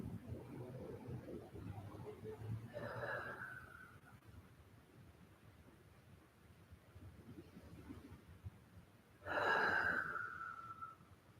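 Slow, audible breaths held in half locust pose during yoga, two long airy exhales several seconds apart, the second louder and closer, over a quiet background with no talking.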